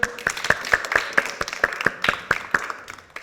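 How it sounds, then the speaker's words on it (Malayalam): Audience at a church worship event clapping in a steady unison rhythm, about four claps per second, close and crisp with a faint background hum. "ഈ നല്ലൊരു ക്ലാപ്പ് കൊടുത്തേ"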